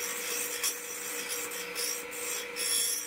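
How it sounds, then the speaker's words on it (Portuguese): A bowl gouge cuts the rim of a turned wooden vase spinning on a lathe. It makes a steady, close rasping scrape that carries on without a break, with small surges in loudness and no voices. "com uma goiva de bacia, estou aí numa tentativa de retificar esse bordo"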